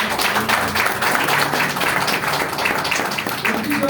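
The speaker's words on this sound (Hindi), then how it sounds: "एक बार मैं चाहूंगा उनके लिए जोरदार ताली बजाएं" An audience at a health products presentation breaks into loud, dense applause, many hands clapping steadily for the whole stretch.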